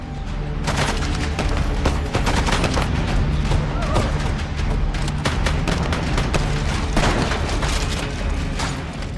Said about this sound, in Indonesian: Lalu terjadilah baku tembak di antara mereka.